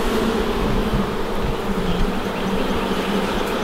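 Honey bees buzzing loudly and continuously close by around an opened hive during an inspection, a dense steady hum with no talk over it.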